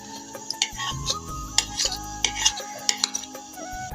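A spoon scrapes and clinks against a pot while chana dal and pickle are stirred together, giving repeated close metallic taps and knocks at an uneven rhythm over a low background hum.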